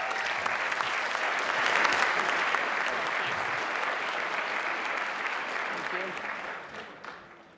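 Sustained applause from an audience at a Duke University startup showcase, cheering on the founders, holding steady and dense throughout before tapering off near the end.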